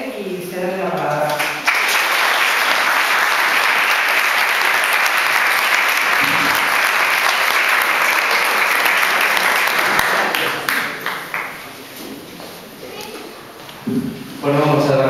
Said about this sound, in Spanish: quiero pedirles un aplauso para él y cederle la palabra